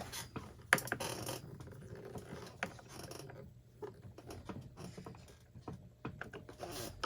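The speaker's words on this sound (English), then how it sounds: "now we will finish tightening these." Fuel tank assembly screws on a Stihl 044 Magnum chainsaw under rebuild are tightened with a hand tool. Faint close ratcheting clicks and small metallic taps come in irregular bursts, with no speech.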